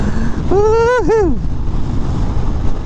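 Wind pummels a rider on a 2025 Harley-Davidson Breakout: a loud, constant roaring rumble buffets the microphone throughout, and a voice briefly exclaims partway through.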